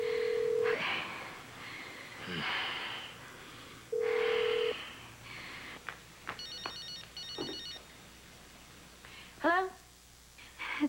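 A cell phone being dialed for a call, with electronic keypad tones and phone ringing sounds in short bursts, interleaved with talk and background activity.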